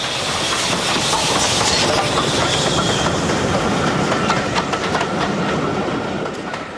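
Steam locomotive 7802 approaches Bewdley hauling blood-and-custard BR Mark I coaches, a loud, close rumble of wheels with clickety-clack rail beats and steady engine noise.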